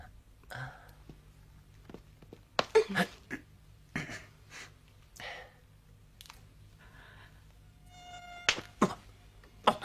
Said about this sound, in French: Voilà les moustiques.